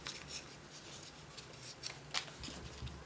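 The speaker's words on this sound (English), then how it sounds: "now I just make the mountain fold here" Paper being creased into a mountain fold while shaping an origami snake on a rock, a quiet run of soft crinkles and brushing rustles with a few sharper crisp snaps near the end.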